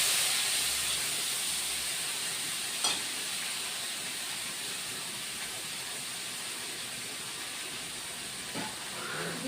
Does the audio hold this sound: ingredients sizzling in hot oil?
yes